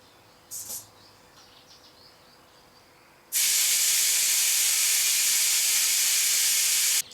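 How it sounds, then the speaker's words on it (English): Air hisses loudly and continuously out of a motorcycle tyre as it is let down with a small valve tool, a steady close rush that starts abruptly after a few quiet seconds of faint handling. "First thing we've got to do is let down the tyre."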